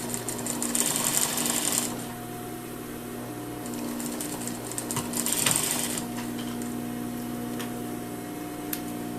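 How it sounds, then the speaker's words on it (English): A sewing machine stitches a jacket lining at a 1 cm seam, its needle tapping in a fast steady mechanical rhythm close by, pausing briefly between bursts. "you're going to keep sewing at 1 centimeter according to the lining length"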